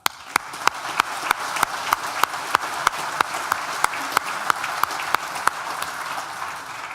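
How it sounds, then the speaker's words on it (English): An audience at a university architecture and design graduation ceremony applauds in a steady, full wash of clapping, with sharp individual claps punctuating it at regular intervals throughout. "So I think a round of applause is in order just for that."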